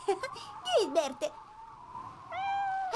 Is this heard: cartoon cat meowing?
yes